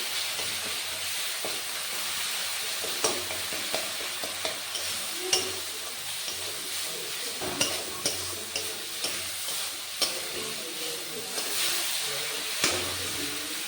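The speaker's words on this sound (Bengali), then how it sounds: "এবার মশলাটা ভালো করে কষে নেব।" Ground spices being stir-fried in a pan for a Bengali dish, a steady sizzle and hiss with repeated scraping and stirring clacks from a spatula throughout.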